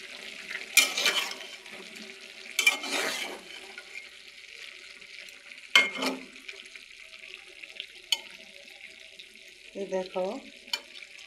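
Rohu fish frying and being stirred in a pan with tomato for a winter bean and eggplant curry, a continuous sizzle broken by several sharp scraping stirs, with a short spoken remark near the end.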